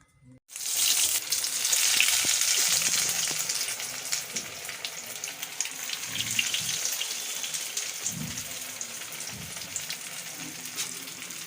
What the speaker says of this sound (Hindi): अब हम इनको करेंगे फ्राई।